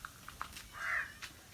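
A crow caws a few times in short, harsh calls over quiet outdoor background, with one longer drawn-out call in the middle.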